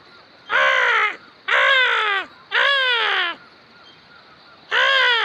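A crow caws four times, each call loud, harsh and drawn out, with short pauses between them; close by and nothing else heard.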